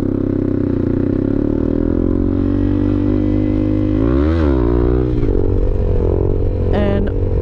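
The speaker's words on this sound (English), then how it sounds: "Guy wanted me to do a wheelie, so I'm gonna do one" A 250cc motorcycle engine holds a steady, loud drone, then revs up and down sharply around a wheelie before settling, with a brief clatter near the end.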